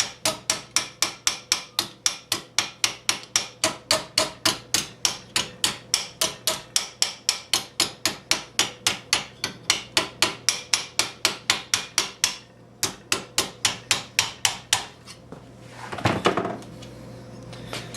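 Rapid, evenly spaced hammer blows embossing the edge of a warm steel gauntlet armor plate, dozens of sharp ringing strikes close up, a brief pause, then more blows ending in a scraping handling noise.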